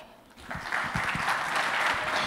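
An audience at a conference on video game business models breaks into applause, starting thin and swelling into steady, dense clapping that fills the room.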